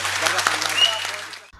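An audience at a public event in Nellore applauding, a sustained burst of clapping that fades out after about a second and a half.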